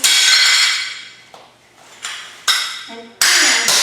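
Hammer smashing a plate inside a garbage bag, a loud crash with rattling shards fading out, then a few sharp blows and a ringing ceramic clink, ending in another hard smash.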